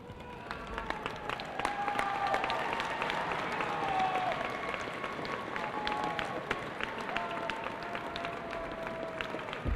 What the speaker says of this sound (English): I'd like for this class to stand and turn to the side where your parents are and applaud your parents